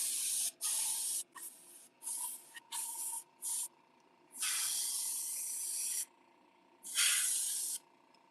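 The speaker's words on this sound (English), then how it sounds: "So that's a really light spray at the bottom." An airbrush sprays paint onto fishing lures in repeated hissing bursts, several short ones followed by two longer sprays, with quiet gaps between.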